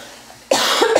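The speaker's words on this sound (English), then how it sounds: "I'm so sorry I'm coughing." A woman with asthma coughs after a short quiet pause, a sudden close, loud burst with a couple of harsh pulses.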